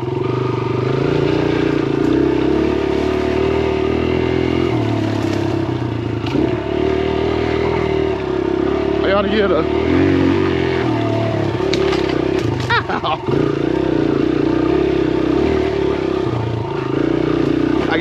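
Kawasaki KLX 140R dirt bike engine idling and running steadily close by near a camper, a continuous loud drone with a few rattles and revs, while someone talks briefly over it.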